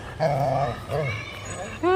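Pet dogs whimper, yip and give soft growling barks close by in a home, in two short bursts separated by a brief pause.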